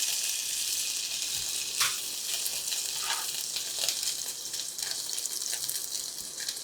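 Food frying in a pan in a home kitchen, a steady high hiss of sizzling with a few brief clicks and stirring sounds on top, close and fairly loud.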